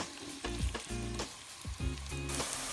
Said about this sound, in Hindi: अब इसमें हम जो प्याज काटे हुए हैं उनको शामिल कर देंगे।